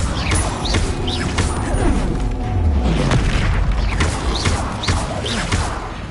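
Bombarda blasting spell explosions in Hogwarts Legacy boom repeatedly amid crashing debris and mechanical creaks, loud and continuous with spell whooshes scattered throughout.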